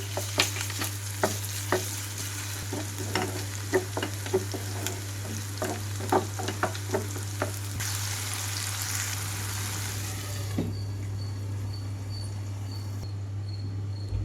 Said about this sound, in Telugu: ఉల్లిపాయలు సగం వరకు వేగిన తర్వాత ఇందులోకి అల్లం వెల్లుల్లి ముద్ద కూడా వేసేసుకుంటున్నానండి